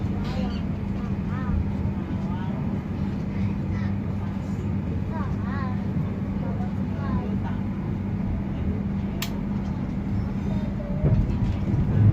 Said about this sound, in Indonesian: pukul 14:26 menit KA Taksaka melintas di stasiun Cikampek.